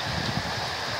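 Heavy rain pours during a severe storm in Willcox, Arizona, a dense, steady patter and hiss on surfaces, loud and close, with no talking during the brief moment.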